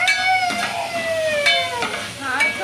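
Onions with salt being mixed in a frying pan, an ongoing sizzle with spoon scrapes, while a child's wail with long falling tones sounds loudly over the cooking nearby.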